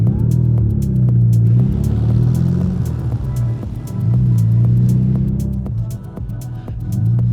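A supercharged Porsche 924 engine running: a loud, close, throbbing low rumble that rises and falls in steady waves, with a faint whine on top and no talking.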